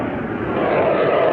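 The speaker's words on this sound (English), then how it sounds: "There's some kind of a fighter plane going by." A fighter jet passes overhead near the coastal fort, its engine a steady, loud broadband roar that swells slightly over the brief stretch with no voices.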